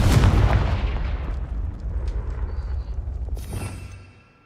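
Confringo blasting spells explode in Hogwarts Legacy, a heavy booming blast at the start rolling into a long rumbling decay, then a fainter second burst near the end before fading to quiet.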